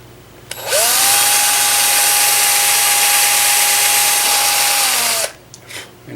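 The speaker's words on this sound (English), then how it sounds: "And drill just enough to mark it." A power drill marking a hole in a gun stock whines at a steady high pitch for about four and a half seconds, loud and close, then cuts off abruptly.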